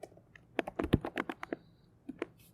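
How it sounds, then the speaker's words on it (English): Quick, quiet clatter of keys being typed on a computer keyboard, a short irregular run of taps followed by a couple of final presses, close up with no voices. "I can go inside the brackets and type the name of the country"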